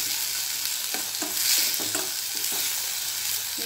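Food sautés in a pan while being stirred during preparation of Punjabi masoor dal, a steady close sizzle broken by soft scraping strokes of a spoon, with no one talking.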